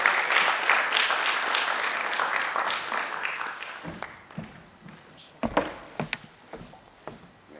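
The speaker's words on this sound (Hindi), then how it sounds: "एक बार आप सब जोरदार तालियों से उनका भी अभिनंदन करें" A crowd at a stage performance applauds loudly and steadily for about four seconds, then the clapping thins to scattered claps, wooden thumps and footsteps as it dies away.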